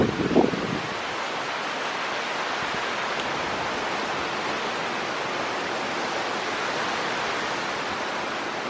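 Hurricane Francine's wind roars steadily in Algiers, Louisiana, a dense, unbroken rush that buffets the microphone for the full stretch, loud and constant with no voices.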